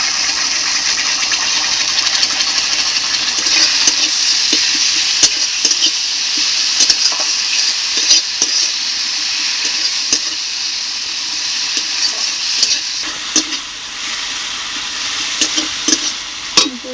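Ground paste of dried chilli, ginger and cumin fries with tomato and onion in a pan for a potato-aubergine rohu fish curry, a steady loud sizzle with scattered crackles and spatters running throughout, no voices.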